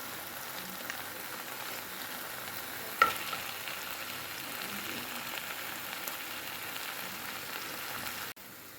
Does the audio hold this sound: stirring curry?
yes